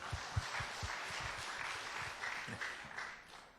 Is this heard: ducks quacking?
no